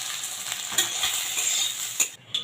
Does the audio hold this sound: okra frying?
yes